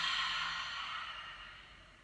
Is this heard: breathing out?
yes